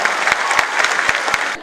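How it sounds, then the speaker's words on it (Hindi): Audience applause at a stage program event, a loud burst of many people clapping together with a few sharp, distinct claps punctuating the wash before it tapers off at the end. "एक बार अपने लिए जोरदार तालियां हो जाए"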